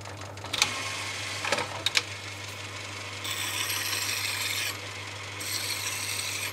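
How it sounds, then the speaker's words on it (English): Burrs being removed from a model steam locomotive wheel in a small workshop, with a few sharp scraping strokes and then stretches of steady grinding or filing rasp over a constant low hum. "I'll just take the burrs off."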